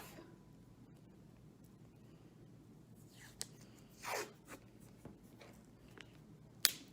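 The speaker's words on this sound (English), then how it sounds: "I'm going to take my scissors at the ends and cut that part off" Quiet, scattered snips and rustles of scissors cutting through tape on an Altoids tin craft, a few isolated crisp cuts spread out over a hushed room.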